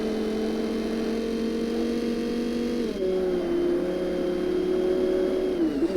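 A race car engine in Forza Motorsport holds a steady high whine that dips and shifts partway through, moderately loud with no talk.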